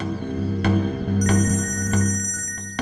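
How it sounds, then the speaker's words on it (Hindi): A telephone rings with a steady electronic tone, punctuated by a few sharp clicks and knocks, close by and fairly loud. "आपका फोन बज रहा है"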